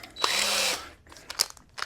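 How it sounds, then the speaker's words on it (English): A 3/4-inch Forstner bit bores a hole for a wooden tray, a single half-second burst of whirring drill noise that cuts off and leaves a few faint clicks and knocks. "we're going to use a 3/4-inch Forstner bit to drill out our holes for the tray"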